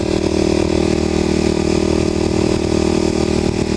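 Kawasaki KLX250sf motorcycle engine droning steadily while riding at a moderate, unhurried pace, a loud, constant hum with a low rumble and no clear revving, close up throughout.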